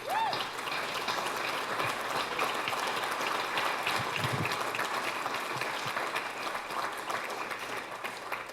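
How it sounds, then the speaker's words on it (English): Sustained applause from the audience at an edtech pre-conference mixer, a steady wash of clapping hands filling the room at even loudness for the whole stretch, with a few scattered louder claps and no talk over it. "Give everyone a round of applause."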